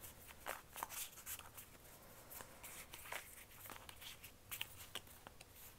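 Tarot cards being shuffled produce soft, quiet riffling and slapping bursts at an irregular rhythm, close but faint throughout.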